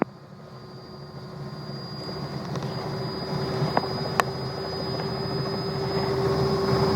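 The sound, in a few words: Robinson R66 helicopter engine winding back up to flight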